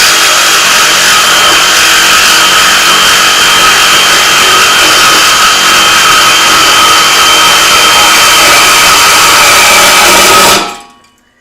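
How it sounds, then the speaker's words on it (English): A Sawzall reciprocating saw cuts continuously and loudly at close range in an automotive repair shop during a 2014 Chevy Sonic front brake job, then stops abruptly. "I'm gonna see if I can cut off both ends of this with the Sawzall."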